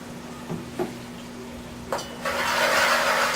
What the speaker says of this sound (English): Put that in there, incorporate the onions with the sofrito.